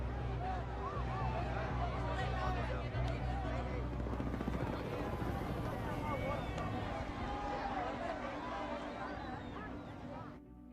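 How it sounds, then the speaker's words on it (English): Helicopters departing above a large crowd at the evacuation during the last days in Vietnam, a loud continuous rotor roar with crowd babble beneath, fading slightly toward the end. "they looked up at the helicopters leaving"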